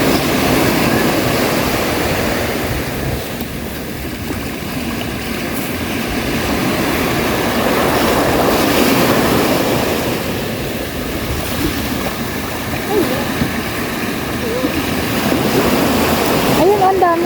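Sea water washing in at a sandy seaside, a loud continuous rush of waves and surf that swells and ebbs, with voices chattering over it now and then.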